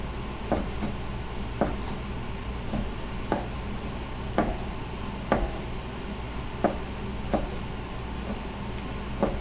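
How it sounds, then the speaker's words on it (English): Knife slicing Chinese sausage on a cutting board at a diagonal: a steady run of about a dozen crisp, evenly spaced chops against the board, close and clear over a low room hum, with no talking. "So you're going to slice it up. I like slicing up at a diagonal."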